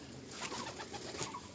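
A white pigeon in a loft coos softly, a few low, rolling murmurs repeating quietly against faint background noise, with no talking.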